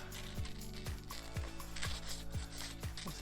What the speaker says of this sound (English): If you go around the edge, just touching the end of the petals with the scissors.